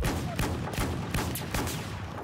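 Rapid, loud Desert Eagle pistol shots in a video game, several sharp cracks in quick succession over a dense, noisy game soundscape.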